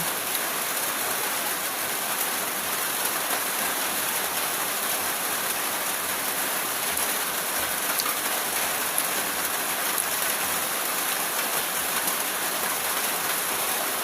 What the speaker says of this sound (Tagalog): Walang katapusang ulan.